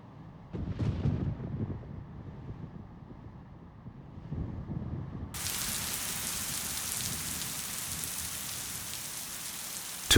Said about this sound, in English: When the rain descends, the beautiful scenery begins to fade, dampening the spirits of hikers.